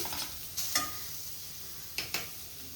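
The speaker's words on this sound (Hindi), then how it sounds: "यहाँ मुझे मूली को फ्राई करते हुए 5 मिनट हो गए हैं" Radish pieces fry quietly in a pan with a soft, steady sizzle while a utensil stirs them, giving a few distinct light scrapes and clicks spaced through the stretch; no talking.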